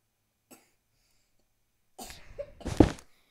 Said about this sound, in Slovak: A môj brat tu furt kašle